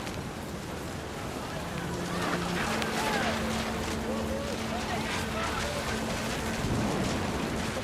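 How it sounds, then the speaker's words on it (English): Heavy rain pours steadily in What Remains of Edith Finch while thunder rumbles low and close underneath, a dense, continuous storm wash throughout. "The thunder sounded much too close and full of angry power."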